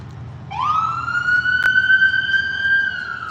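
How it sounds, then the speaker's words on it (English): An ambulance siren wails in a single rising tone that holds steady for several seconds, loud and close, with no voices over it. "That was an ambulance."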